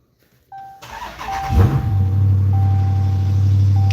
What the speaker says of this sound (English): everybody wants to hear the Magnum start.